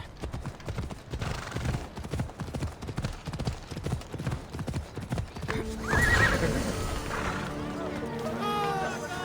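Hooves clip-clop rapidly in a steady gallop, then a horse lets out a loud, shrill neigh that trails off, with faint voices in the background, in the video game Assassin's Creed Odyssey.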